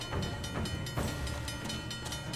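A train in Uncharted: The Lost Legacy rumbles along with a dense, rhythmic clatter of wheels over the rails, loud and close, in steady repeating knocks.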